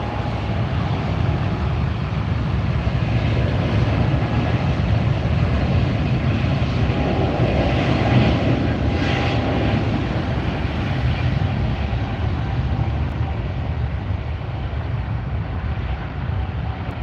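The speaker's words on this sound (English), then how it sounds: "There goes the Austrian flight." An Austrian Airlines jet departing LAX, heard from the beach near the runway: a steady, broad engine roar held loud and unbroken throughout, with wind rumble on the microphone.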